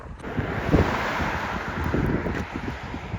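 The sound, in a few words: strong wind blowing near US border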